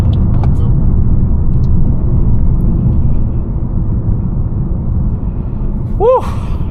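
A 2021 Mercedes-Benz A250 with 226 hp and a seven-speed AMG Speedshift transmission pulls hard, its steady low engine rumble filling the cabin, with a brief rising whine near the end and a voice speaking over it.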